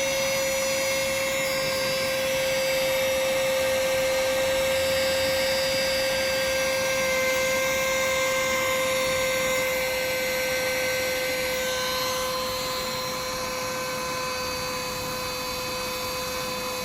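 A portable mini vacuum cleaner running continuously, a steady high-pitched motor whine with a strong tonal hum and airy rush, loud and close, easing slightly in pitch toward the end with no talking.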